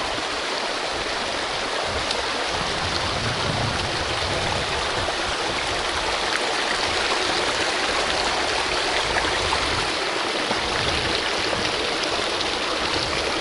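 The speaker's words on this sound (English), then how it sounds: "Right, our first little creek crossing." Water of a small creek rushes steadily over the stones of a stepping-stone crossing, a continuous close, loud burble with no break or voice throughout.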